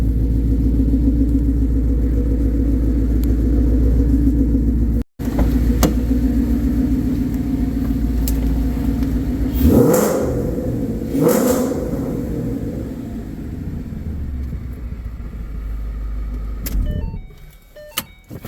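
A 2014 Mustang GT V8 fitted with longtube headers and an X pipe idles with a steady, deep rumble, briefly cut off once, then blipped up twice before settling and fading out near the end.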